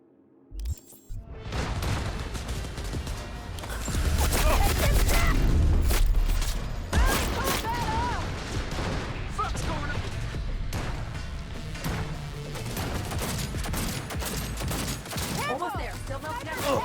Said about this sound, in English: Go try the sniper rifle they gave me.